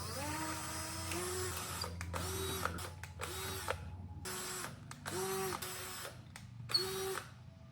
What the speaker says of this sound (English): So I'm just gonna drill some holes.